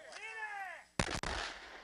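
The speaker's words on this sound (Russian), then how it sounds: "Это кадры минометного обстрела позиции украинской армии под Донецком." Mortar fire striking Ukrainian army positions near Donetsk: a sudden loud blast about midway, with a sharp burst and rumbling tail, preceded by a rising-and-falling tonal whine.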